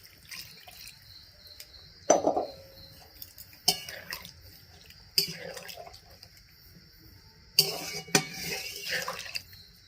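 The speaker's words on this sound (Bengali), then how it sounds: "ওই জলটা আমি দিয়ে দিচ্ছি।" Lukewarm water from a spice bowl splashes into cauliflower roast masala in a pan, in several short close pours and drips with quiet gaps between them.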